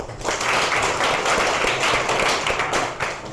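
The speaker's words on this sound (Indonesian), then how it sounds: "Harus tepuk tangan." A classroom of about 29 students claps together, steady dense applause that rises quickly and fades at the end.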